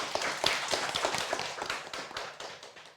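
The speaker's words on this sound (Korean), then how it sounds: "박수로 듣겠습니다" Audience clapping at a literary seminar in Jeonju, a steady patter of many hands that stays moderately close and fades toward the end, with no talk over it.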